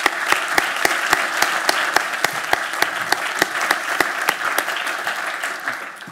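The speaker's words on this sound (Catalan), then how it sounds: "Un fort aplaudiment, sisplau." An audience at a formal ceremony applauds steadily, with a full wash of clapping broken by sharp individual claps that stand out in a regular rhythm.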